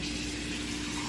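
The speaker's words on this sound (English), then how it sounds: "Fill this up with water." Water pours steadily from a tap into a vase holding roses, a short continuous gushing hiss at moderate level with no speech.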